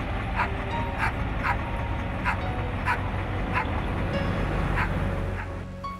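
A police service dog barks repeatedly in short bursts outdoors while vehicles parked near a house are searched, the barks loud and regular against steady background rumble.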